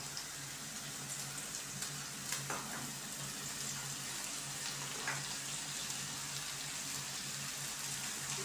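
Shredded cabbage hitting a hot pan with chilli powder, a steady broad sizzle with a few stirring scrapes, close and continuous without any talk.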